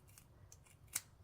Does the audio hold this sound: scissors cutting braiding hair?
yes